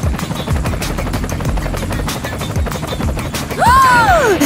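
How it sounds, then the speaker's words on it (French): A golden helicopter descends from the sky, its rotor beating in a fast, steady thump under a constant rumble. A sweeping whoosh swells loudly near the end. "C'est vraiment un hélicoptère en or!"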